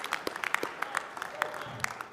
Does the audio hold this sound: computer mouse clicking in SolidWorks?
no